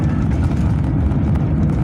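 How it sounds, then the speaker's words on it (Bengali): Steady low roar of a large airliner's engines heard from inside the cabin, a constant dense rumble with no breaks and no talk. "এখন বিমানটি চলে যাবে"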